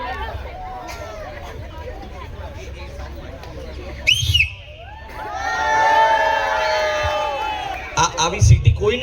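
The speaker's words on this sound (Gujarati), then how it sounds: "આવી સીટી કોઈને આવડતી હોય તો હું એક બોનસ આલીશ" Amid a noisy wedding-party singing contest, a lively crowd chatters and cheers, then a long, loud warbling whistle rings out over the hubbub, with a brief sharp whistle just before and more shouts after.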